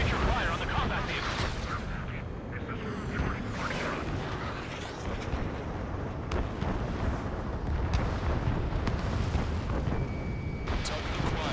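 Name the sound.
missiles and heavy gunfire, Ace Combat 7 video game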